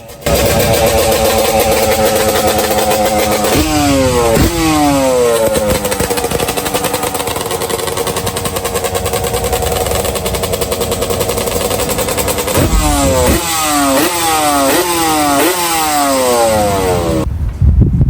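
Superbikes at a bikers meet rev hard, loud repeated rising engine sweeps and rapid throttle blips over a steady idle roar, close by, with a second burst of climbing revs near the end.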